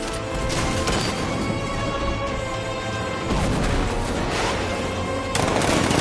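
Tank cannon fire in the video game Batman Arkham Knight, with repeated heavy blasts and dense rapid gunfire crashing over a loud, continuous din of explosions and game effects.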